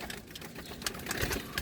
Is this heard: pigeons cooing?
yes